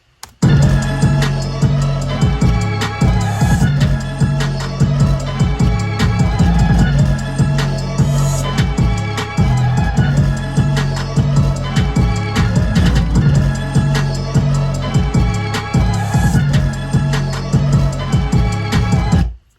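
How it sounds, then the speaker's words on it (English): A loud, steady hip-hop beat with deep booming 808 bass hits and regular drums, playing continuously with no talking. "there's an 808 that I added in there."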